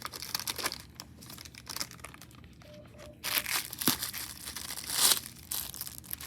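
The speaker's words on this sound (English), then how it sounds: "When you're removing the dressing from the package, keep it in the package" A sterile IV dressing package for a peripheral IV insertion is handled and opened, giving close, irregular crinkling and tearing of plastic and paper in several bursts, with a brief quiet pause midway and no speech.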